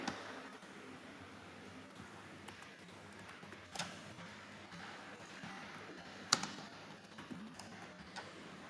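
Sparse keyboard typing and mouse clicks at a computer while a library catalogue record is filled in, with soft irregular taps over a quiet room and a few sharper clicks, no talking.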